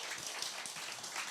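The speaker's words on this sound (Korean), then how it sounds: "여러분을 이 자리에 오게끔 추천해주신 그분들 위해서 박수 한번 주시죠" An audience at a youth gospel rally breaks into a short burst of dense, steady applause, many hands clapping at once across the hall.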